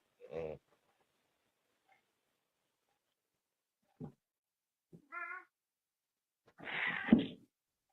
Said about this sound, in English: Poor kitty.